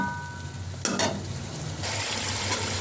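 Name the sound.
spices frying together in pan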